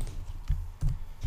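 Fingers tap out an email address on a computer keyboard, making a handful of close, distinct keystroke clicks at an uneven typing rhythm over a quiet background.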